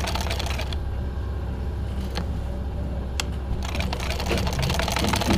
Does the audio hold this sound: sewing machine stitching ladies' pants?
yes